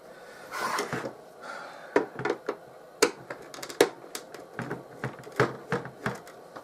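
Small plastic clicks and sharp ticks in an irregular rhythm, close by, as screws are unscrewed and lifted out of the plastic body of a BigTrak toy, with no talking.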